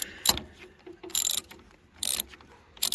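Ratchet clicking in short bursts while a socket tightens a loose battery terminal on a Cub Cadet XT1 LT42 riding mower, three loud close clusters of clicks separated by brief pauses.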